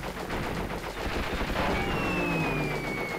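Gunshots in Crash Bandicoot Warped, rapid repeated firing rolling continuously and loudly within busy game sound, with a rising tonal whine near the end.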